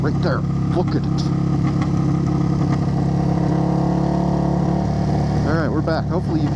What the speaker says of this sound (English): There will be a lot of engine braking in this video.